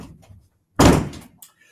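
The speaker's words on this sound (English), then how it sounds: "Let me close the door here as we're coming down." A door swings shut with one solid, close thump and a short rattle, followed by a faint click a moment later, in a quiet indoor room with no talking.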